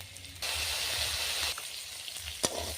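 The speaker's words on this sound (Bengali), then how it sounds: "বিম কড়িটা ভাজা হয়ে গেছে" Green beans frying in a pan give a steady, close sizzle that swells and then eases, with a single sharp utensil clink near the end.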